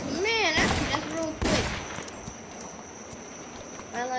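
Gunshots in a Wild West game crack out as a few close, sharp bursts amid a dense, noisy outdoor ambience, with horse clip-clop and a voice talking over parts of it.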